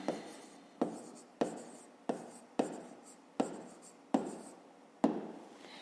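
Hand writing an equation with a pen on paper: about eight close, scratchy strokes, each with a sharp onset that trails off, in a steady rhythm with no voice.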